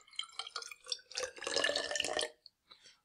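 Water poured into a graduated cylinder during a classroom volume demonstration, about 60 millilitres: short splashy bursts build into a steadier trickling pour, then a few faint drips at the end, close and fairly quiet, with no talking.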